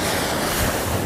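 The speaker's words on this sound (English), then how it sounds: "We don't have that ocean noise and waves, roaring and all that good stuff." Ocean waves roaring on a windy shore, a dense, loud, continuous wash of surf and wind noise that fills the whole moment with no voices.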